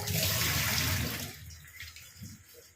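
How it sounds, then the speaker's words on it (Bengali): Potatoes washed under a strong stream of running water in a home kitchen, a loud steady gush for about a second before easing into a softer trickle and drips. "আলুটা ধুয়ে নিচ্ছি ভালো করে"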